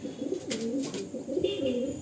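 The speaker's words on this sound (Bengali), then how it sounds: "প্রচণ্ড ছটফটে পায়রাটা।" A Kalanka pigeon cooing in soft, throaty repeated phrases close by, with faint background chatter and a brief high tone.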